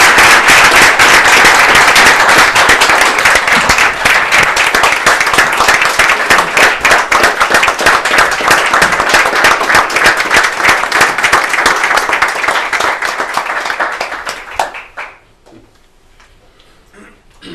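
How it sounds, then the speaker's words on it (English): A large crowd at a school board meeting applauds loudly for about fifteen seconds, dense continuous clapping that fades out near the end. "Let's give all these young people a big round of applause"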